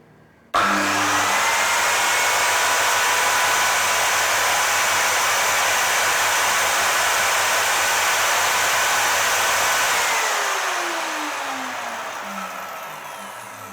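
A Bosch circular saw spins up and runs at a steady high whine without load, then winds down as the motor slows near the end.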